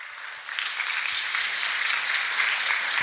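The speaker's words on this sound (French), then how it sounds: "Quand on dit on acclame, on acclame." During a Sunday church teaching session, the congregation acclaims with applause that starts softer, then swells after a moment into steady, fairly loud clapping.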